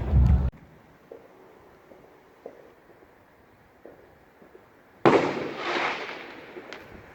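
Bonfire Night fireworks in Derby, UK: a loud burst at the start, then scattered faint distant pops, and a loud crackling volley roaring in near the end.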